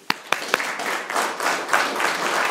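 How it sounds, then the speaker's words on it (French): Audience applause at a community event, a few sharp individual claps at the start swelling into dense, steady crowd clapping. "Fait que j'aimerais ça qu'on les applaudisse."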